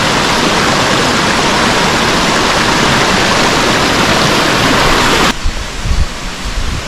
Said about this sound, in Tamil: இந்த தண்ணியோட சவுண்டு த்ரோட் அப்படியே கேட்டுக்கிட்டே இருக்குங்க அப்படியே சல சல சல சலன்னு